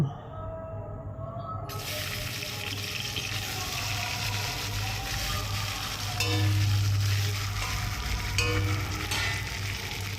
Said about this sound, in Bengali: মাছের মাথাগুলোও ভেজে নিচ্ছি